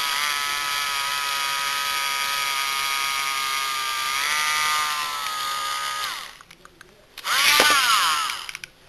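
A high-pitched Dremel rotary tool whines steadily while sanding a plastic LEGO brick, pausing briefly before revving up again in a short loud burst.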